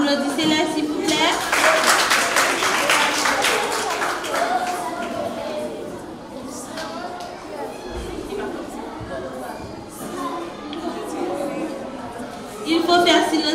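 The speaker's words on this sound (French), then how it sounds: "Applaudissez-les s'il vous plaît" A school audience at a student-run green day event applauds the pupils, with clapping strongest early and then thinning into crowd chatter and voices; the clapping swells again briefly near the end.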